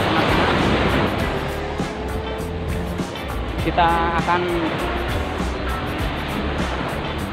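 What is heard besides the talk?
big ocean waves at Pasir Putih beach, Trenggalek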